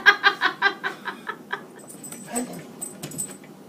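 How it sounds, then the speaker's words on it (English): A dog gives a quick run of short, sharp yelps or barks at the start that fade into softer whimpering sounds, close and fairly loud. "That's my dog."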